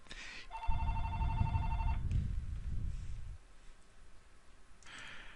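A phone rings with a tonal, electronic trill over a low, rumbling background, loud and close, then cuts off as the rumble fades.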